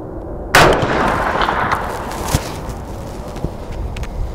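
A single loud rifle shot fired with .444 Supercharged FTX ammunition at an outdoor target on a sunny range, a sharp broadband crack followed by a long rolling echo and faint outdoor ambience.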